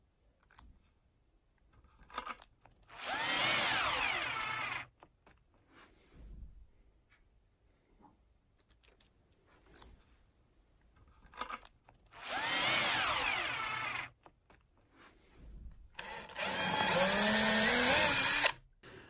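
A power drill fixing a magnetic catch plate to a door runs in three separate bursts, each a couple of seconds long, with quiet handling noises and clicks in between.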